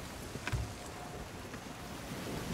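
Stormy sea in Sea of Thieves, with a continuous roar of wind and rushing waves around a sailing ship, broken by a brief thump and creak near the start.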